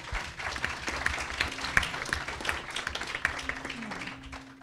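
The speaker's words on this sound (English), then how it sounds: "they deserve a round of applause as well" Audience at an evening panel discussion on Kānaka Maoli self-governance applauding, a moderate, steady patter of clapping from a seated crowd lasting several seconds and gradually thinning out.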